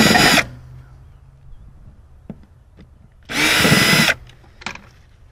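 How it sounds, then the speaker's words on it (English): A power drill backs screws out of the mounting of a Norcold N811 fridge in an RV: two loud, close whirring bursts, one short and one longer, separated by quiet handling clicks, with no one talking. "So it looks like there are two screws, one here, one here. We'll pull those both out."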